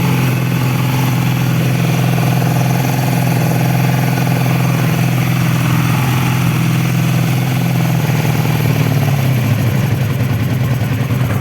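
A 1985 Honda Magna VF500C V30 V4 motorcycle idles steadily and loudly up close with its revs set a little low, a constant low rumble throughout that shifts slightly in pitch near the end.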